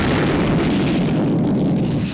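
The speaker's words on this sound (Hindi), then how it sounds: "मतलब कि मैं यहाँ से बटन ऐसे दबाऊं? और ये ब्लास्ट हुआ।" A blast set off by pressing a remote control button in an action movie scene: a loud, dense explosive rumble that fills the whole moment and fades slightly at the end.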